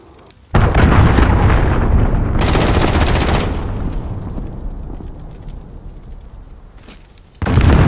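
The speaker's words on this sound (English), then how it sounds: "Cruise missile away." A cruise missile strike in Call of Duty Modern Warfare hits with a sudden loud explosion that rolls into a long rumbling tail, with a sharp crackling burst mid-blast and a second loud impact near the end.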